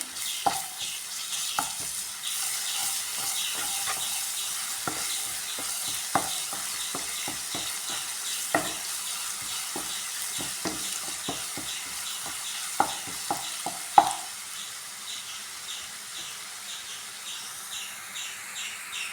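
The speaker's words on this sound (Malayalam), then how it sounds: "ഇതിലേക്ക് ഇഞ്ചി, വെള്ളുള്ളി, മല്ലിച്ചപ്പ് അരച്ച പേസ്റ്റ് ചേർത്ത് നന്നായി ഒന്ന് മിക്സ് ആക്കുക" Onion sizzles with a ground ginger, garlic and coriander paste for wheat upma: a constant low frying hiss, with a spoon repeatedly scraping and knocking the pan. Faint bird chirps sound in the background.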